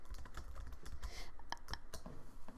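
Quiet, close clicking of computer keyboard keys in a quick, irregular run of taps, with no voices over it.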